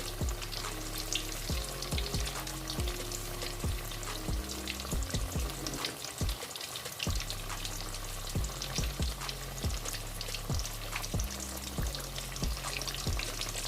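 Fish frying in oil in a pan on a low flame, a dense continuous crackling sizzle that keeps going throughout, with a low rhythmic hum beneath it, close and steady, no voices.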